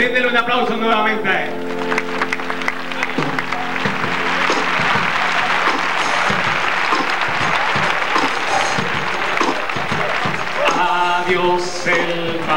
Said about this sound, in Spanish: Brindele un aplauso nuevamente.